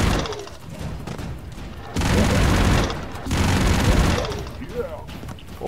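Gunfire and explosions in the 2D action video game Broforce, with dense bursts of shots and booms in two loud stretches and a voice talking throughout.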